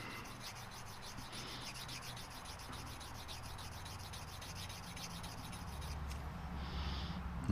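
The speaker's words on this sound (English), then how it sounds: "And just keep rubbing it until you get it home." Steady abrasive rubbing as a gearbox shaft component is honed by hand, a continuous close scraping hiss with an even, unbroken rhythm throughout, no voices.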